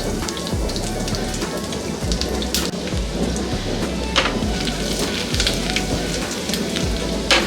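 Finely chopped garlic fries in butter in a pan, producing a dense, steady sizzle full of close crackles and pops that continues throughout.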